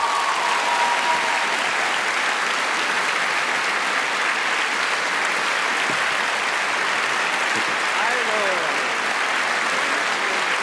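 A live talk-show studio audience applauds to welcome a guest, producing dense, loud, sustained clapping that fills the room with a brief voice surfacing beneath it.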